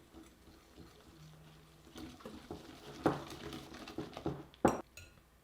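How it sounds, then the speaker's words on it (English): Wire whisk stirring sifted dry pancake ingredients in a mixing bowl, a steady soft scraping with a few sharp clinks against the bowl near the end, close and fairly quiet with no talking. "take your whisk, and we will whisk this together"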